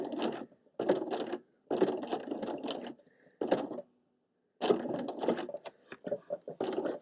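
A sewing machine running satin stitch in short bursts, whirring and clattering rapidly with brief stops between runs, close and fairly quiet, ending in a locking stitch.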